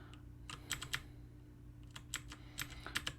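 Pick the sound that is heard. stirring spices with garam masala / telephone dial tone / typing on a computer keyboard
typing on a computer keyboard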